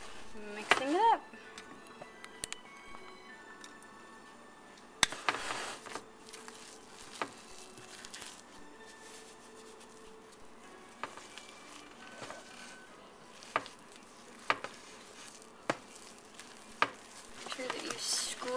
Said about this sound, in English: Make sure that you scrape all the chocolate off of the bottom